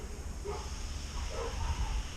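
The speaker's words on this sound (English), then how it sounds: "You hear the dogs barking over there." Dogs bark somewhere in the distance, a few faint, muffled barks rising over a low rumbling outdoor background.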